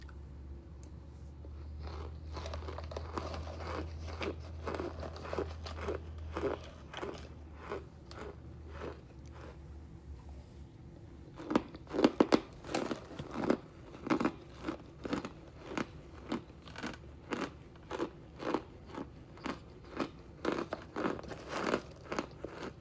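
Someone chews crunchy cereal up close. Steady crisp bites start faintly and grow into loud, rhythmic crunches in the second half, with no talking.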